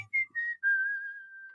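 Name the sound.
person whistling imitating a songbird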